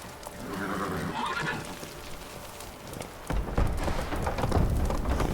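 Roach, a horse in The Witcher 3 video game, whinnies loudly and then breaks into heavy galloping hoofbeats that grow louder toward the end, with faint rain-like noise underneath.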